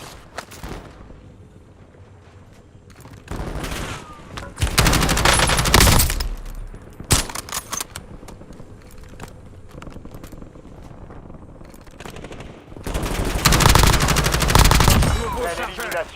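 Bursts of automatic gunfire from the video game Call of Duty Resurgence, two long loud volleys separated by quieter stretches of scattered shots and game ambience.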